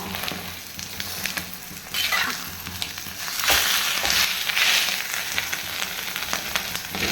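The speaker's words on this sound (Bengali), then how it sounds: "বেশ কড়া করে ভাজছি" An omelette fries hard in a hot pan, a loud, continuous crackling sizzle that swells and eases as it is turned and stirred, heard close up without speech.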